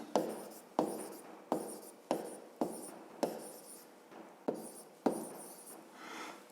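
Handwriting on paper during a fifth-grade maths exercise: a run of about nine quick pen strokes, each starting with a sharp scratch and trailing off, close and steady, with no talk.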